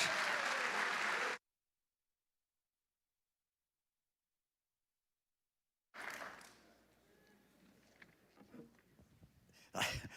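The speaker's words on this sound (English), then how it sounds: "maybe a round of applause" An audience applauds as speakers are welcomed back to the stage, a burst of clapping at the start, then a gap of silence, then quieter scattered crowd noise and clapping returning near the end.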